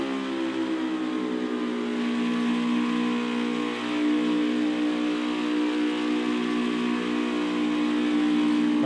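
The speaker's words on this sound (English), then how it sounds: "Oh, here we go, racing into pit road" Race car engines roar steadily at high revs as cars accelerate down pit road at Michigan International Speedway, a loud sustained whine with no speech.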